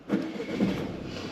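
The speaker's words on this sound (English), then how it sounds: "let's start the engine" A manual car's engine cranks and catches, giving a brief rising rumble that settles into a steady idle, close and moderately loud.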